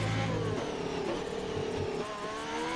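A race car in a sim racing video game on a Russian circuit works through the final two corners. The engine note rises and falls with throttle lifts and downshifts, a loud, close, whining drone with brief tire scrub.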